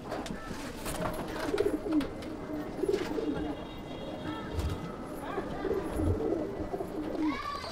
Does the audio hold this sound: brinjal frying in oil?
no